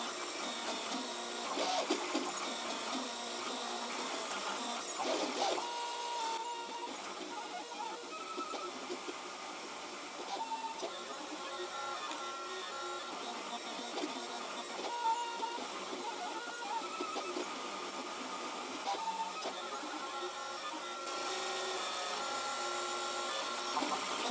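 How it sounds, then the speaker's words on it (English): A 3D printer prints a mobile phone tripod mount, its stepper motors whirring and buzzing in shifting tones as the head moves, continuous and close with no speech. "This is about the third printout of this mobile phone tripod mount I'm doing."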